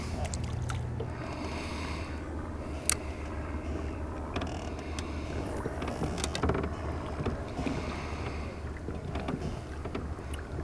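A wakeboard boat hums steadily across an open lake, with wind buffeting the microphone and faint water splashes; a low engine drone runs throughout.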